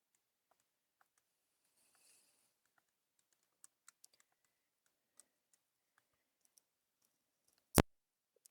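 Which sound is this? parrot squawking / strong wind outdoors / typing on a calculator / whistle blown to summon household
typing on a calculator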